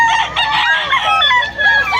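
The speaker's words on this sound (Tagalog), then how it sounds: "Ang dami pong manok ngayon dito sa Bukawi." Chickens and roosters at a poultry market in Bocaue, Bulacan crow and cluck loudly and close by, overlapping calls filling the whole moment without any voices.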